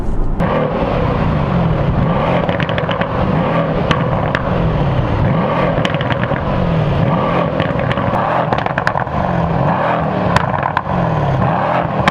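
A Mercedes-AMG C63 S sports car engine roars steadily at high revs, loud and close, with a continuous throaty growl and no talking.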